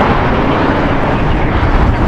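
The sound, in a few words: airliner at LAX airport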